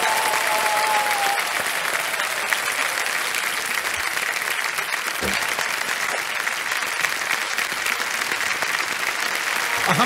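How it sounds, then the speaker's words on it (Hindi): A television quiz show studio audience, on Kaun Banega Crorepati, applauds: loud, steady clapping from a large crowd runs unbroken throughout, with no break or fade. "तालियां बजते रहें इनके लिए।"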